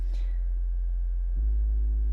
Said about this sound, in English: So that's a pure sine wave.